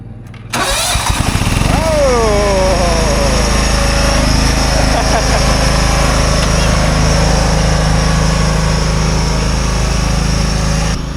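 A small lawn mower engine sputters to life, revs briefly, then keeps running at a loud, steady idle close by.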